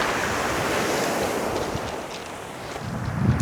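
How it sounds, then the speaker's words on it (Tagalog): Sea waves crashing against a rocky shore at Bahay na Bato in Luna, La Union, a loud continuous roar of surf with wind buffeting the microphone and a swelling surge at the end. "Tingnan nyo guys yung alon, nakakatakot."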